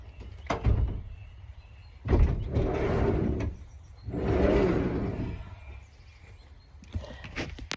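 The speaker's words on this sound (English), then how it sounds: "I'm going to have to put you down to open the door" A door is opened at home, giving a few dull thumps and a bump up close, with two longer rumbling stretches of handling noise in between and no talk.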